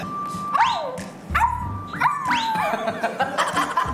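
Several sharp, high-pitched puppy yips and barks come in quick bursts at close range, some trailing into whiny tones, over a low background hum.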